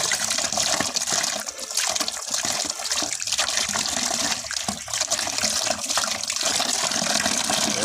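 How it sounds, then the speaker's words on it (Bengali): Aquarium filter sponge rinsed under running tap water, a steady close splashing and gurgling that continues throughout with small surges in the flow. "এই যে ফিল্টারের স্পঞ্জটা ভালো করে ধুয়ে নিতে হবে"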